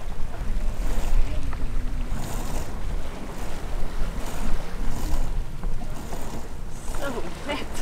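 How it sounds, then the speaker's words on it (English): A sailboat runs under a gennaker on the open ocean without a motor, with continuous wind buffeting the microphone and water rushing and splashing along the hull, loud and close throughout. "So we're gonna do some gennaker sailing."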